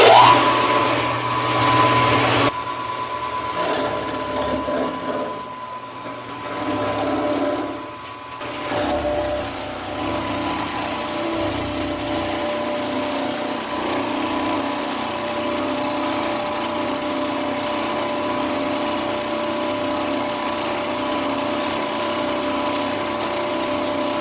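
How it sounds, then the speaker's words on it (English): A milling machine takes a cut on the first side of a steady rest base, a steady whine with tonal hum holding throughout, a louder start in the opening seconds settling into an even, continuous drone. "mill that first side"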